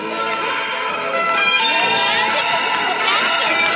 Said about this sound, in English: Cheer them on as they come by, everybody.